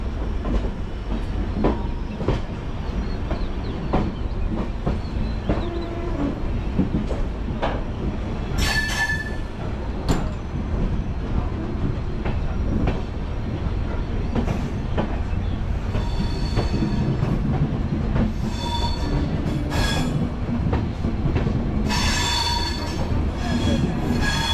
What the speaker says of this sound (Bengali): আমাদের ট্রেন এই মুহূর্তে প্রবেশ করছে লামডিং জংশনে